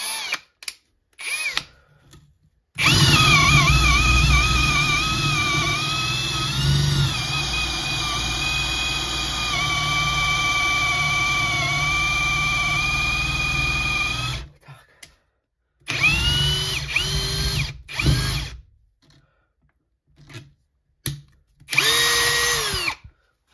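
A PABSP 20-Li C2 cordless drill driver running at second speed, a loud steady motor whine for about twelve seconds, then several shorter bursts of spinning up and down with pauses between.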